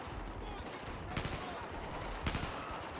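Gunfire in the Battlefield 4 campaign: two short, sharp bursts of shots about a second apart, cutting through a constant dense background of combat noise.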